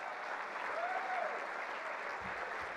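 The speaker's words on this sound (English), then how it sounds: "Let's give him one more round of applause." A crowd at an annual chamber dinner applauds steadily at moderate volume, the clapping dense and continuous, with faint murmurs underneath.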